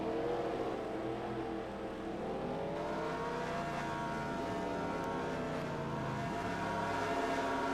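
A race car rolls down pit road during an SSSR heat race, its engine a steady droning whine with shifting, gliding pitch as it passes, moderately distant and continuous, with no talk over it.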